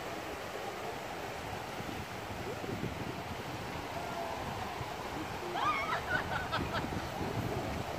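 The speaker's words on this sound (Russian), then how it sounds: "Ничего себе, волны поднялись." Waves risen along a resort beach in Turkey make a steady, full rushing wash that swells slightly toward the end, with a faint voice briefly audible.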